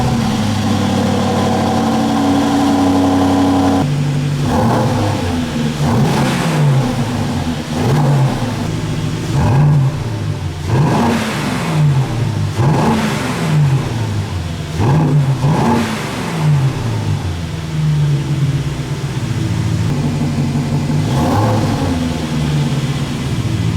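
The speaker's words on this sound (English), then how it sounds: "We can now hear the exhaust, first in normal, then in sport." A 2024 Aston Martin DB12 exhaust idles, then revs repeatedly in sharp bursts in normal and then sport mode, each rising and falling, loud and close with a throaty rumble between blips.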